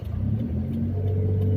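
A car engine holds a steady mid-pitched rumble while pulling away uphill on half clutch, loud and close, rising slightly in strength with no talking over it.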